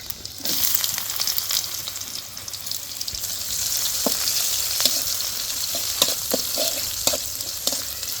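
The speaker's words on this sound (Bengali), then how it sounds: "প্রথমে আগে আমি পাঁচফোড়ন মশলা দিয়ে দিব, তারপর দিব হচ্ছে পেঁয়াজ কুচি," Chopped onion and panch phoron spices frying in hot oil, a continuous close sizzle with scattered sharp crackles and pops of a spoon stirring in the pan.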